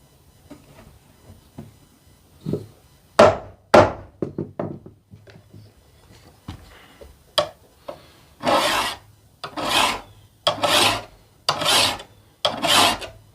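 Steel file rasping along a machete blade clamped to a bench with a holdfast, a leather scrap protecting it: about six loud, evenly spaced strokes close up, after quieter scraping and a few knocks.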